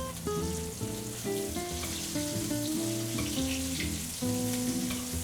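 Food sizzles in a frying pan as it is basted with butter and garlic, a steady bright hiss running throughout beneath loud background music.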